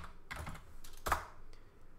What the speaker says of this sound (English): I can start typing letters on my keyboard